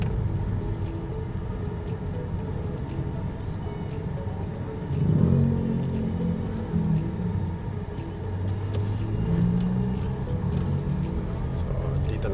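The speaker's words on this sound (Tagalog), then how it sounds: "Meron lang pong konting traffic dito dahil nasa intersection tayo." Road traffic at an intersection, a steady low rumble of passing vehicles with an engine swelling nearby partway through, under speech.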